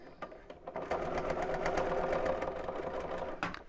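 Sewing machine stitching steadily over a bulky section of a viscose bag, a continuous close mechanical whirr with a fast needle rhythm that slows briefly near the end.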